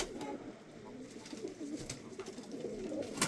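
Pigeons coo in soft, repeated throaty calls close by, several birds overlapping in a murmuring rhythm within an enclosed, echoing cellar in Mardin.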